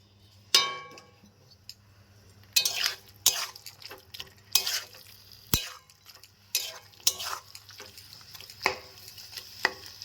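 Thick banana stem paste, its water kept in, being stirred in a pan over high gas heat: repeated scrapes and clanks of a spatula against the metal, arriving in irregular bursts with a faint low hum beneath and no voices.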